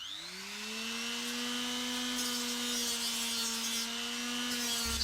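Angle grinder whining steadily as it strips rust and paint from the right-hand body panel of a Jaguar S-Type under restoration, a loud continuous drone with a slowly rising pitch and no talk.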